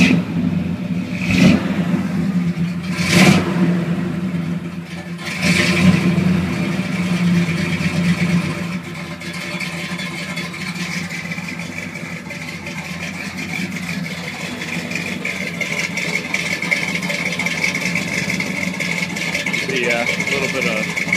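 1981 Chevrolet K10 truck engine idling slightly rich, a steady close rumble with a few sharp blips early on, someone speaking over it.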